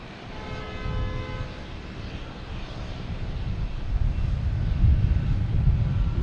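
A KLM airliner taxis back to Terminal E at Boston Logan, its low engine rumble building steadily louder over several seconds, with a brief early tonal whine fading out.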